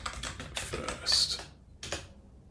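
Typing on a computer keyboard during code work, a few quick clusters of key clicks with short pauses between, close and fairly quiet.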